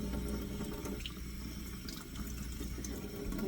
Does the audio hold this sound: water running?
yes